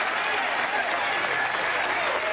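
Steady applause from an overflow crowd at the 2005 PBA Birmingham Open bowling tournament, a dense continuous clatter of many hands that holds at an even level throughout, with no voices standing out.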